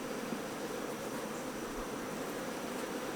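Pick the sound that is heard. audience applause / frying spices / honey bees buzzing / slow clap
honey bees buzzing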